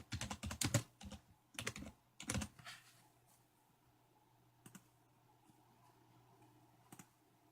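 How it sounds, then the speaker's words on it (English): Quick bursts of keystrokes on a computer keyboard, clustered in the first few seconds, then a couple of isolated taps against a faint steady hum. "I'm going to click on search and I'm going to type control panel."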